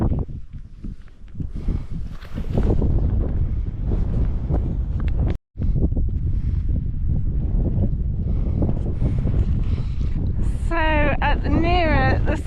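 Cold wind roars across a Scottish hill summit near Lochearnhead, buffeting the microphone with a loud, continuous rumble that drops out for a moment, then returns as a voice speaks over it.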